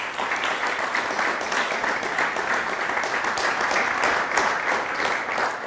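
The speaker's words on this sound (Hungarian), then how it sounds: "Fogadjuk nagy szeretettel és nagy tapssal" An audience applauding at a lecture event, dense sustained clapping filling the room at steady loudness with no pauses.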